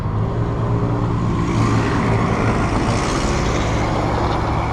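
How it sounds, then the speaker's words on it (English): A Jeep drives past on a road, a steady broadband engine and tire rumble holding at a constant level throughout with no distinct approach or fade, recorded near the roadside. "ooh, there's a Jeep"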